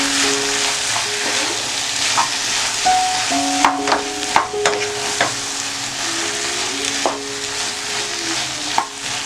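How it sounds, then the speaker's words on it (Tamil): Tapioca with egg and turmeric is stirred in a hot pan, giving a continuous sizzle with repeated scraping and clinking of the spoon against the pan at an uneven rhythm. "இப்போ எல்லா இடத்துலையும் மஞ்சத்தூள் முட்டை எல்லாம் படுற மாதிரி நல்லா கிளறி விட்டுக்கலாம்."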